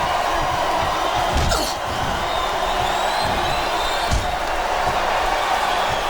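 Arena crowd in the WWE SmackDown vs Raw 2008 video game, a steady roar of a capacity audience with scattered cheers and a couple of sharp slams, continuous throughout.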